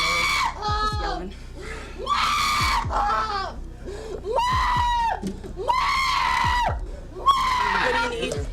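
A woman yells repeatedly in loud, strained, tonal bursts during a tense police encounter, the outbursts close by and separated by brief pauses.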